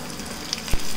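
Ingredients for Mughlai Hyderabadi-style mutton korma fry in hot oil, a dense continuous sizzle with a soft crackle and one brief low knock near the end of a single second.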